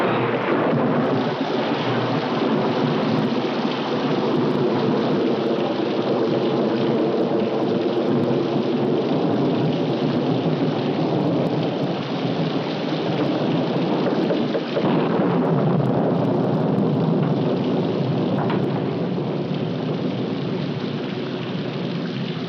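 Heavy rain pours steadily and loudly with rolling thunder beneath it, a dense continuous roar in a 1946 film storm scene that dips slightly midway and carries no speech.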